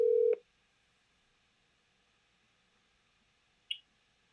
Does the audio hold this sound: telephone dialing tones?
yes